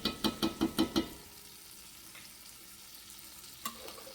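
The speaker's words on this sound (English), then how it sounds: "We are just going to put it all right in our pot with our onion." Butternut squash and onion tipped into a pot on medium heat, several quick knocks and clatters in a row, then a faint low sizzle with one more light tap, close and fairly quiet.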